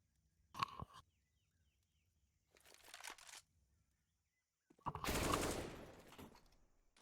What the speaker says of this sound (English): Shots coming back and forth on the inside there.